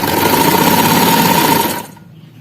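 Sewing machine stitching the long seam of an A-line frock with ribbon, a steady close whirring hum that runs for under two seconds and then cuts off.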